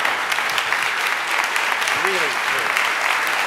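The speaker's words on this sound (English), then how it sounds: "Please give him a great big round of applause" Warm audience applause for a guest and his wife at a gathering, thick continuous clapping from a sizable crowd while a voice briefly speaks over it.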